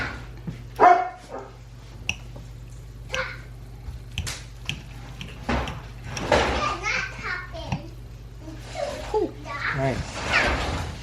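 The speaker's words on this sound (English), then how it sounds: "Our dog is barking because he wants to go outside." A pet dog barks indoors in short, scattered bursts, mixed with children's voices and adult talk in a home kitchen during dinner preparation.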